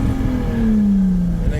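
A Toyota Supra with a 7M-GTE engine revs hard under heavy throttle while climbing a hill, a loud close engine drone whose pitch sags slightly across the short burst.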